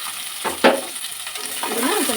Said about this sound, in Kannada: ಈಗ ಇದಕ್ಕೆ ಈರುಳ್ಳಿ ಹಾಕ್ತಾಯಿದ್ದೀನಿ.